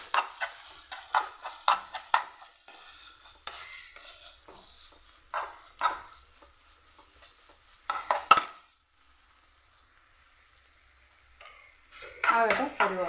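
Food stir-frying in a pan, with repeated quick scraping strokes of a spatula, a steady sizzle and a brief pause before stirring resumes.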